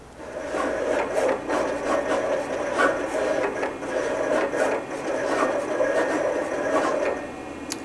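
Roland GX24 vinyl cutter slicing a name out of vinyl sheet, a steady close scraping, rasping whir with repeated short carriage movements and ticks running continuously throughout.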